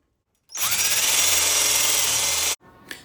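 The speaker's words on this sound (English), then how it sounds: "I am going to again show you the full grinding of the 60 on this side" A Harbor Freight axe is ground on a 60 grit belt grinder, a loud, close, steady high-pitched grinding whine lasting about two seconds before stopping abruptly, followed by a brief quieter scrape.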